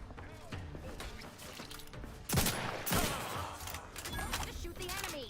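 Gunfire in the video game The Outer Worlds 2: a couple of sharp shot bursts stand out midway over a busy bed of game sounds and a talking voice.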